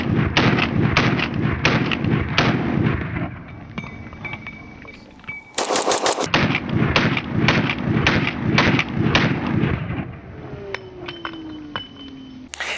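Loud 1911 pistols chambered in 9mm and .45 fire at a shooting range, a rapid series of close, sharp shots with brief pauses and metallic clinks of brass between strings.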